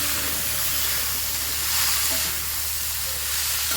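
Cooked raw banana flour is stirred in a hot pan, making a loud, steady sizzling hiss. Faint scraping rises now and then under the continuous frying noise.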